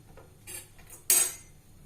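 Bitter gourd pickle is stirred with salt and vinegar: a spoon clinks and scrapes against a bowl in a few soft taps, then one sharper, louder metallic clatter, all close by and without talk.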